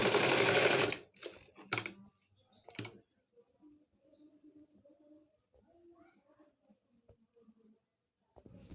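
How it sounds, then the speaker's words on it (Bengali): A sewing machine stitching baby frock fabric with attached lace, in a loud, close burst of about a second, then quiet room sound with soft cooing birds and faint clicks. "এভাবে আমি পুরাটা কাপড় সেলাই করে নেবে"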